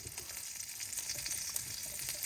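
A quesadilla frying in a pan on a camp stove, giving a steady, close, bright sizzle with constant crackle and no talk.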